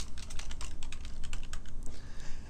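Rapid, irregular clicking of a computer keyboard being typed on, crisp and close, continuous over a few seconds with no talking.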